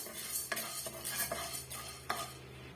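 Toor dal roasts in a pan over medium flame for tomato rasam, a spoon stirring and scraping in several distinct strokes over a faint dry sizzle, close by, with no voices.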